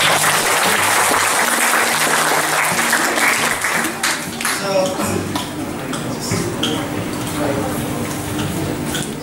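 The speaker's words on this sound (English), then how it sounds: "give him a big round of applause" A crowd claps steadily for several seconds while a voice talks over the applause.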